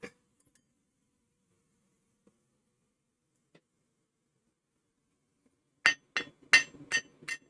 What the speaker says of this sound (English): So you get to hear the hammer strikes that way at least.